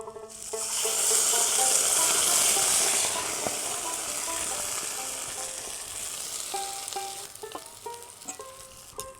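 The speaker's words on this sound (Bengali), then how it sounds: "রসুনগুলো ভাজা হয়ে গেল এবারে দিয়ে দিচ্ছি ভাপিয়ে রাখা শাকগুলো" Steamed drumstick leaves go into hot oil with fried garlic, setting off a loud burst of sizzling that eases into a steady fry, followed by clinks and scrapes of stirring near the end.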